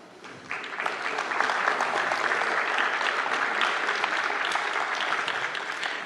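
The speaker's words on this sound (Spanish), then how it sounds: "Invitamos al señor doctor Omar Toledo Toribio a subir al escenario con un fuerte aplauso" A conference audience at a labor procedural law congress applauds steadily as a speaker is invited to the stage, a dense and even wash of clapping that rises quickly and holds for several seconds.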